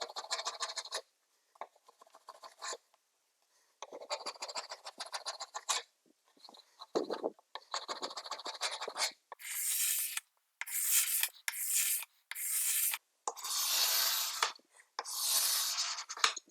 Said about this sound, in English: I'm going to use a chisel to remove some of the big pieces, and then I can scrape the rest of it.